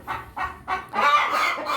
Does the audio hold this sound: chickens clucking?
yes